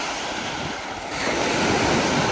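Strong waves crash against the shore near a harbour in Pickering, Ontario, a loud continuous wash of surf that swells louder midway, mixed with wind rumble and no voices.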